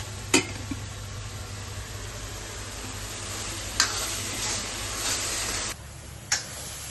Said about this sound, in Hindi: तो ये मसाला काफी अच्छे से भुन गया है, टमाटर प्याज ये अच्छे से मिक्स हो गए हैं